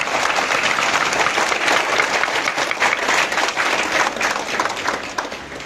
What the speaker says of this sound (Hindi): इस कॉलेज में एक अच्छी तालियों का गड़गड़ाहट सुनाई पड़ना चाहिए।